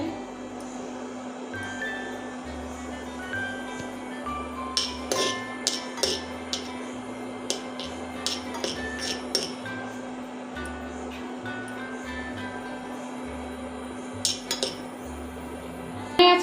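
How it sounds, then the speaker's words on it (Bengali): Red chilies frying in a pan give a soft, steady sizzle with scattered light clinks of a utensil against metal, repeated taps through the middle and a few at the end; no voices. "লঙ্কাটা এখন ভেজে নিচ্ছি লাল করে"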